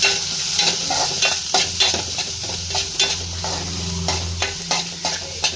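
Squid curry masala fries and sizzles in a pan while a spoon scrapes and stirs it in quick, repeated strokes, loud and close.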